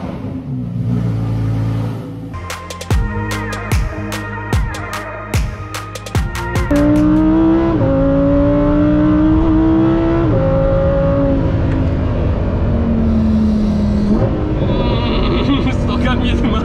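A high-revving Lamborghini Huracan STO engine fires off rapid gear changes with sharp cracks between shifts, then holds a loud, rising scream close by.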